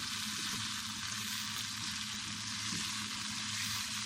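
Chicken macaroni fries in a pan with a steady, even sizzle and hiss, fairly quiet and continuous, with no voices.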